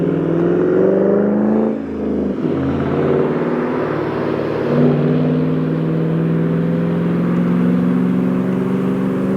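Car driving past on a road, recorded from a Mavic Air 2 drone overhead, with a steady loud engine hum and tonal whine that dips briefly as the vehicle passes, over the drone's own buzzing.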